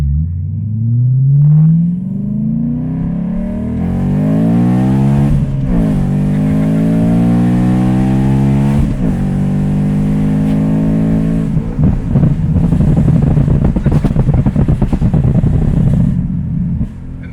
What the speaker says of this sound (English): I bragged about the sound of the S65 and this Gentani race muffler